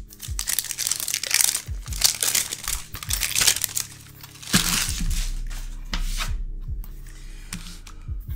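Crinkly plastic wrap on an old Pokeball tin is crumpled, pulled and torn open close up, with bursts of loud crackling and rustling that come in uneven waves.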